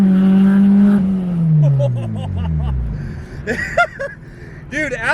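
K-swapped Khaki car engine revving high then winding down in a long falling whine, followed by lighter rev blips and brief sharp squeals; close and loud.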